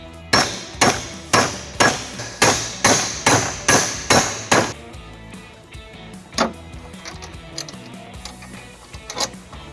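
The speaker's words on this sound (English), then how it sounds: "I'm going to use a hammer to flatten it out." About nine sharp, evenly spaced hammer blows ring out close by as a metal tab is flattened for a trailer hitch on a 2014 Toyota Camry, followed by a few lighter scattered taps.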